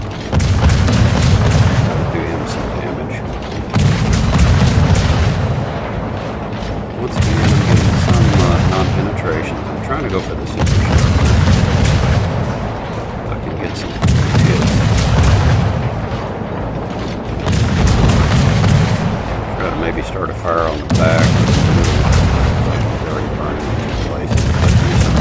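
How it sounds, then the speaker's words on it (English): USS Kidd destroyer guns firing in a naval battle video game, heavy booming salvos repeating at regular intervals of a few seconds, loud and close, with a voice talking over them. "I started immediately firing on the Iowa"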